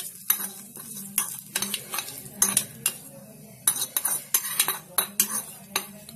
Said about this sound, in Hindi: सभी चीजों को बहुत अच्छे से मिक्स कर लेंगे